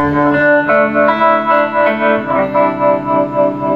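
Electric guitar chords played through a Line 6 MM4 modulation pedal set to tremolo, the volume pulsing in a steady, even throb over sustained notes, loud and close with no talking.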